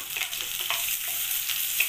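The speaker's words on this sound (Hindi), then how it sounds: "शिमला मिर्च थोड़े से हमने फ्राई कर ली है, अब यहाँ में हमने प्याज जो है वो डाल देते हैं" Onions sizzle in a pan with bell peppers that were fried first, for a chicken jalfrezi. The hiss is steady and close, with faint stirring scrapes and no talking.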